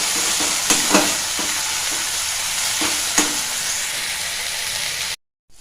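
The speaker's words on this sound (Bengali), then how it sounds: "টমেটোটা আর পেঁয়াজটা ভাজা হয়ে গেছে" Tomato and onion frying in a pan give a steady, loud sizzle, broken by a few sharp stirring scrapes, before the sound cuts off abruptly near the end.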